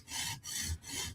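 A Hinderer knife edge drawn across a stone on a TSProf Kadet sharpener, three quiet rasping strokes with short pauses, close but faint, without speech.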